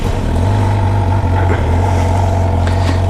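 A 2013 Suzuki GSX-R 750 motorcycle on a test ride, its engine droning loud and steady throughout with a constant low hum and wind rush, no talking.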